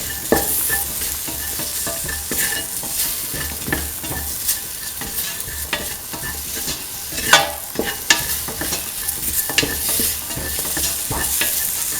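A spiced mixture of mung beans and ivy gourd sizzles steadily in a pan, with constant frying hiss and repeated scraping stirs throughout.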